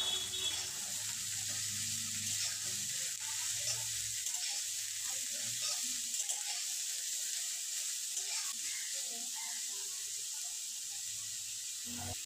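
Vegetables fry in a pan for a vegetarian pasta, giving a steady, close sizzle and hiss that holds evenly throughout, with faint stirring clatter underneath.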